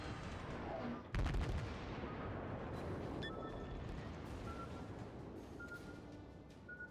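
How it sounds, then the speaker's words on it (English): Enemy ship artillery fire in World of Warships, a heavy boom near the start followed by a rumbling, roaring battle din that stays loud throughout. "Oh, now he's shooting at you, of course."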